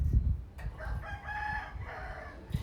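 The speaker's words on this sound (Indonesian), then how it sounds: "Emang banyak ayam di sini" A rooster crows once in a long, drawn-out call at close range, with thumps and background noise around it in a place where many chickens are kept.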